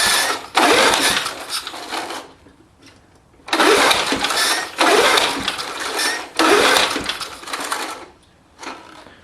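An old Briggs and Stratton lawnmower engine is cranked repeatedly, giving loud bursts of rasping pull-start and sputtering, three long attempts separated by short pauses, close and with no talk.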